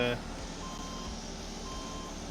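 Mining truck reversing alarm in Farming Simulator 22's Yukon Valley, a steady repeating beep over a low engine drone, with someone talking briefly at the start.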